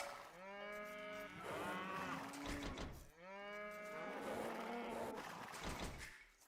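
Two long, loud cow moos follow one another in a video game, each a drawn-out bellow with falling pitch, with no talk over them.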